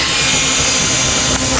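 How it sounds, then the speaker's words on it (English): A power drill runs continuously, loud and close, with a steady whirring grind that lasts the whole moment, in a demonstration of drilling into a gas field. "Drilling."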